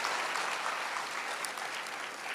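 Loud, sustained applause from a seated crowd of pilgrims at a three-day religious gathering in Kanpur, a dense unbroken roar of clapping hands that holds steady from start to finish.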